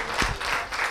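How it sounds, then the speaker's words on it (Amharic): Brief burst of applause for a contestant on a New Year holiday TV show, a short spell of clapping from a small studio audience. "ግን አዎ አጨብጭቡላት።"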